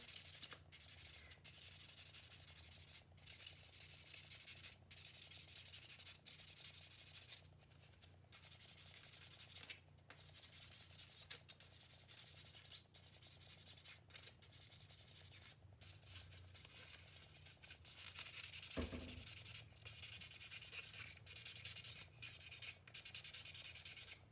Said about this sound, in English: I'm just gonna do the last little bit of buffing and get these nails buffed up before I put on that top coat